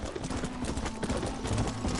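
Horse hooves clip-clop in a steady, rapid gallop while riding in the Red Dead Redemption video game. The hoofbeats are close and even, over a continuous ambient bed.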